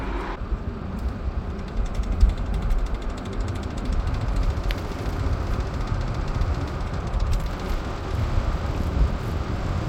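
A failing CV axle on an Audi Q5 gives a continuous low mechanical rumble and rattle while the SUV accelerates at around 20 mph, heard from inside with road and wind noise and no talk.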